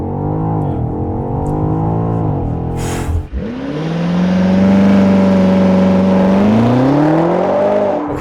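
A 2020 BMW X5M Competition SUV launches hard on launch control, its engine revving loudly and climbing through rising gear pulls after a short pause, heard from inside and close.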